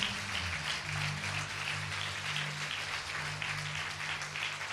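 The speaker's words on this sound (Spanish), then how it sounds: "Denle una ofrenda de palmas al Señor esta noche" A church congregation claps in praise to the Lord during an evening Spanish-language revival service, a steady wash of applause throughout with a low sustained musical tone underneath.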